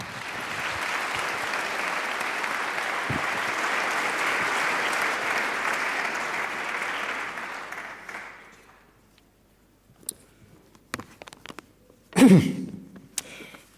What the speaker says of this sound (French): Je vous demande d'applaudir Alain de Benoist.